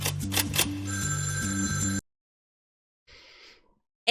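A telephone rings in a subway tunnel bank of phones in a film scene: a loud, bright ringing burst for about two seconds, then abrupt silence, a faint breathy rustle, and the ring starting again.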